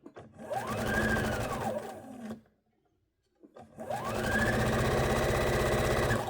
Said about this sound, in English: I'm just going to match them so that they meet in the middle and start sewing